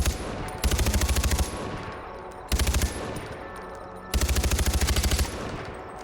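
Machine gun fire in the video game Far Cry 4: three loud bursts of rapid automatic shots, each lasting under a second, separated by quieter gaps filled with game ambience.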